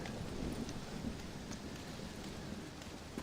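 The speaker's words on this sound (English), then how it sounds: "Well, it's just the storm, John." A thunderstorm with steady rain in Red Dead Redemption Undead Nightmare: dense, even rainfall hisses throughout with a low rumbling undertone, soft and continuous, with no voices.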